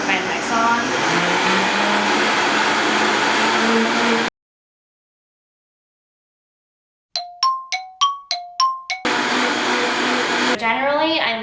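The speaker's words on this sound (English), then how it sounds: "just turn the Vitamix on" A Vitamix blender whirs loudly while blending almond milk, a steady roaring motor that cuts out abruptly, followed by silence, a series of bright chime-like dings, then the blender roaring again briefly.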